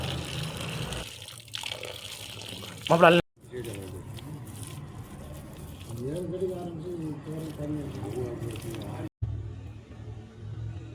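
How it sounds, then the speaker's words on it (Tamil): Water splashes and trickles under steady talk, with a brief louder gush partway through, as water is poured onto clay and kneaded by hand. "களிமண் மேலே தண்ணியை ஊற்றி நல்லா பசஞ்சுக்கலாம்."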